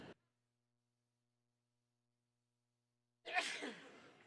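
A single sharp sneeze bursts out near the end after a long stretch of near silence, with a brief faint sound at the very start.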